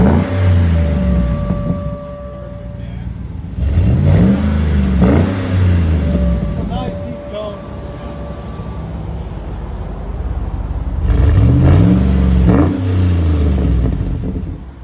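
A GMC Yukon Denali 6.2L V8 with an aftermarket exhaust revs repeatedly up and down with a deep, throaty exhaust note, loud and close, with pauses of lower idle between bursts.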